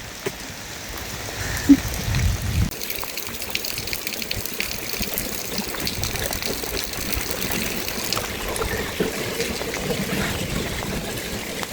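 Steady rain falls on an outdoor scene on a strange, wet wintry day, a continuous broadband patter and trickle at moderate level with a brief louder splash early on, no voices.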